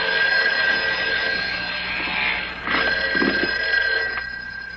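A telephone bell rings steadily and loudly for the whole stretch, with no break or voices, in a 1958-era interior.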